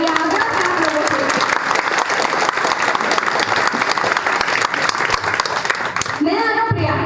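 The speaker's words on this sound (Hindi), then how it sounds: "आप लोग एक बार ताली बजाएं" Audience at a panchayat gathering applauds loudly and continuously for several seconds, dense clapping with some voices mixed in, then tapering off at the end.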